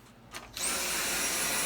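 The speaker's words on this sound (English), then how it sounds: "I'm going to vacuum twice with just this machine, but I'm going to do it in turbo." A Dyson V7 Absolute cordless vacuum kicks up to max turbo power, a loud steady high-pitched whine and airflow roar that starts abruptly and holds constant, close and alone without talk.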